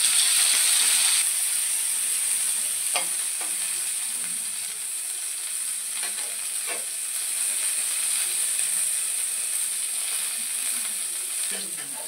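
Cauliflower florets tossed into hot oil in a wok after lightly fried potatoes, for a vegetable khichuri, giving a steady loud sizzle and hiss throughout with a few scraping stirs of a spatula and no talking.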